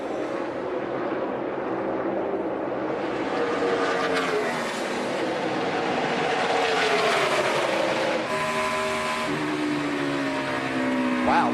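NASCAR stock cars roar around the Brickyard oval at Indianapolis during the 2014 400-mile race, engines whining and shifting in pitch as cars pass, a continuous loud racing drone with crowd and broadcast ambience.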